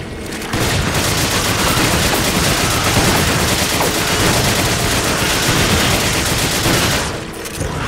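Sustained rapid gunfire from shooting an enemy in the co-op action game Resident Evil 5 on Veteran difficulty, a dense continuous barrage of loud shots lasting about seven seconds before stopping abruptly.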